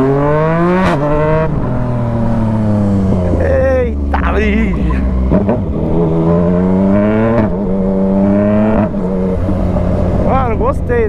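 A new Yamaha MT-09 motorcycle with a Jeskap exhaust revs repeatedly, its loud, close engine note climbing and dropping in quick throttle bursts over a steady idle, while a man makes a brief exclamation.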